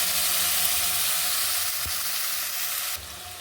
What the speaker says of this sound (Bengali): গোটা জিরে, তেজপাতা আর শুকনো লঙ্কা দিয়ে ফোড়নে দিলাম। করে রেখেছিলাম সেই মশলাটা আমি ঢেলে দিলাম।